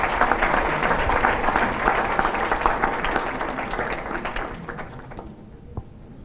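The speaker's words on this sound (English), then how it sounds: "one more round of applause, please, for my introduction" An audience at a middle school event claps in sustained applause that fades out toward the end, with no talking over it.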